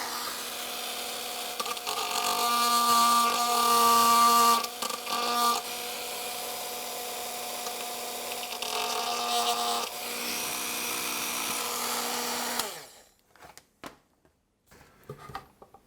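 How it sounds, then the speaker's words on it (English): A small high-pitched drill whines steadily for several seconds, shaping a hole in a Moto Guzzi Le Mans 1000 Mk 5 front mudguard, pitch wavering under load as it cuts, then winds down and stops, leaving faint clicks. "I'm just going to shape it and put it in exactly the right place with this drill."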